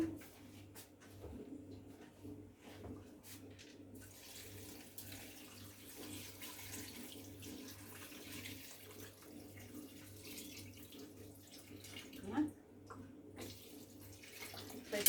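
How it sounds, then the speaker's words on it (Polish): Water runs steadily into a large 4.5-litre pot of Polish cucumber soup with meatballs in a home kitchen, a continuous moderate splashing rush with faint clinks, and no talk. "Tak, doleję wody."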